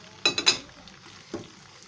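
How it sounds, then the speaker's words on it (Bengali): Prawns fry in a pan of spiced masala, a quiet sizzle broken by a few clinks as a utensil stirs the pan, twice in quick succession and once more a moment later. "চিংড়িটা দিয়ে আমি কিছুক্ষণ একটু মশলার উপর এটাকে ভেজে নিব"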